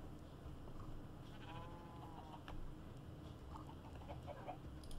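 Sheep bleating in the Minecraft survival game, a couple of short wavering bleats over a steady game-ambience bed, moderately close.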